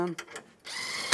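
A power tool whirs in short bursts, tightening the headlight mounting bolts on a 2007-2013 Chevrolet Silverado during a performance headlight swap, close and fairly quiet.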